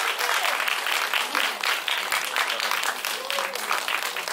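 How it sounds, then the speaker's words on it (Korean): An audience at a film screening Q&A applauds the arriving cast and director, with a dense, loud and continuous clapping from a full room. "박수로 맞이해주세요"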